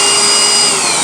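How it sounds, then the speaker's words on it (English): A high-powered cordless handheld vacuum runs at close range with a loud, steady motor whine and airflow hiss, holding constant throughout with no one talking. "High-powered, good quality, handheld vacuum."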